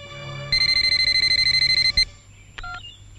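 A telephone rings in a Hindi film scene, one clear electronic trill of rapid repeated pulses lasting about a second and a half, loud and close, followed by a brief handset click and a short tone.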